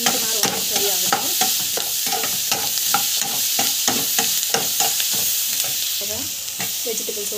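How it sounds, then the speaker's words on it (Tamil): Vegetables stir-fry with salt in a pan for Andhra-style vegetable biryani. Quick, rhythmic spatula scrapes and clanks ride over a steady, loud sizzle. "ஸோ உப்பு கொஞ்சம் ஆட் பண்ணிக்கிறேன். நல்லா வதங்கட்டும்."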